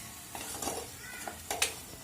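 Sauces frying together in a pan for Schezwan chicken: a close, brief spell of spoon scrapes and light clinks against the pan over a soft sizzle.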